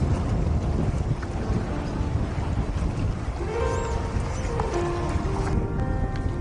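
Wind roars over the microphone as a sailboat with a reefed main and partially rolled genoa moves along in heavier wind, with rushing water and a few faint tonal creaks.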